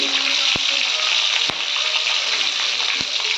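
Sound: fennel, green chilli, garlic and ginger frying in a pan

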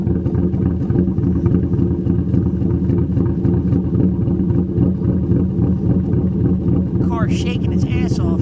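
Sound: 2013 Sherrod Mustang engine with cams idling and revving

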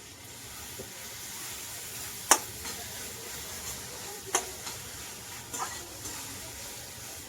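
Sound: onion and tomato frying in pan

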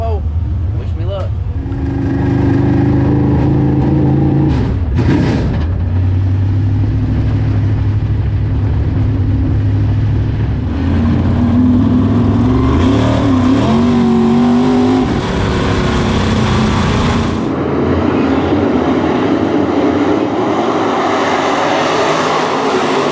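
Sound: dirt track race car engines at race start

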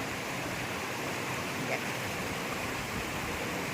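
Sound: flowing water of the Rolly river in Kalimpong

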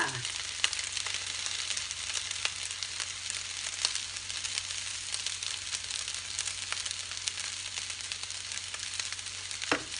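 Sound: frying rice with gochujang and oyster sauce

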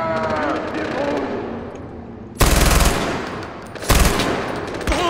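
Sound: gunfire in the video game Far Cry 4

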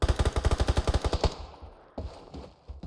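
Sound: gunfire in the video game PUBG

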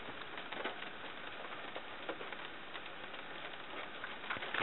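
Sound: heavy rain pouring down outdoors

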